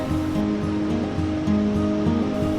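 The Kosi river in Nepal flows beneath a suspension bridge, a steady broadband rush of water heard alone at an even, loud level, with a faint tonal hum layered underneath.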